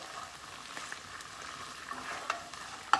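Olives, anchovy paste and garlic sauté quietly in olive oil for a pasta all'amatriciana: a soft, even frying hiss with faint scattered pops and a sharper clink of a utensil near the end.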